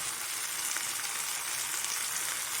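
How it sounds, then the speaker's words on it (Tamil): Coriander leaves sauté in a pan for a chutney, a close, continuous hissing sizzle of frying throughout, with no voices. "சும்மா ஒரு ரெண்டு நிமிஷம் வதங்கினா போதும் கொத்தமல்லி தலை"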